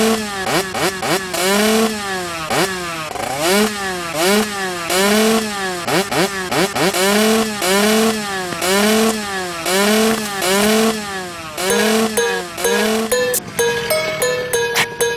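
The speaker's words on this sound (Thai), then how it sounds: "ดังแต่ท่อล้อไม่หมุนเพราะคลัตช์ลื่น" A motorcycle engine with a slipping clutch is revved up and down over and over, and its loud, close, buzzing pitch climbs and falls in a steady repeating cycle.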